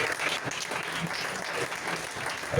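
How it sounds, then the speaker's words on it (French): A church congregation applauding during a French-language service, steady dense clapping from many hands that carries on for a few seconds, with a faint murmur of voices underneath. "Acclamons le roi des rois."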